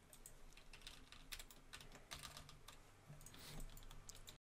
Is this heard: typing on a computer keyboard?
yes